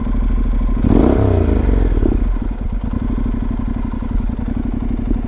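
A motorcycle with an aftermarket exhaust gives a sharp rev that climbs and falls, then settles into a deep, loud, throbbing idle close by.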